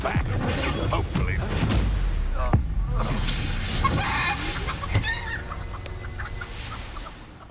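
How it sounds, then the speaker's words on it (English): A chicken clucks in Hogwarts Legacy, a busy game scene with brief clucks and a sharp crash among background effects and music. "There's a chicken there!"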